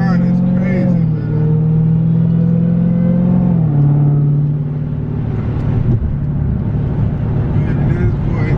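A supercharged widebody Dodge Hellcat engine drones loudly and steadily from inside the car, its pitch climbing, dipping and climbing again as it accelerates, with whine-like harmonics throughout.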